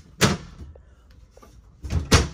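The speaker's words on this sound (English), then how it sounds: "Soft touch on that walk-through door" A soft-close walk-through door in the living quarters of a new 2023 Merhow three-horse trailer closes with two pairs of muffled thumps at the start and end, separated by faint clicks, close by with no talking.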